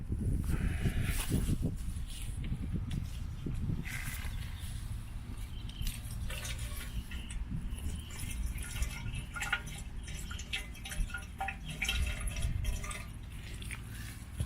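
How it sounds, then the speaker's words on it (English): Baking soda and water sloshing and splashing inside a metal motorcycle gas tank being shaken, with bolts rattling inside, irregular wet swishes and clunks, fairly faint and close, no talking. "I'll mix it with some water and shake it around a bit to neutralize the"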